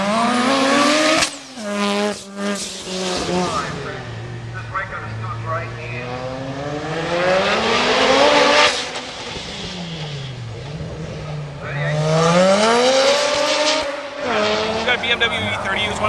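A race car at a hill climb event at Mount Cotton accelerates and revs hard, its engine pitch sweeping up and down through gear changes with some tire squeal, loud and close, with speech over the top.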